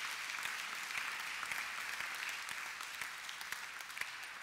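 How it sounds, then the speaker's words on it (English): Church congregation clapping for a couple during a Sunday morning service, a sustained, even wave of many hands filling the room, fairly distant and unbroken, with no voices over it. "I know we're clapping a lot this morning. Let's do it again for this great couple."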